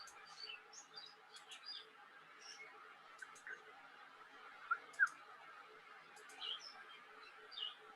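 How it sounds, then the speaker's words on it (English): Parakeets call outside a window in short, scattered high chirps and squawks, moderately distant and fairly faint, over a quiet room background. "I like the parakeet noise in the background there."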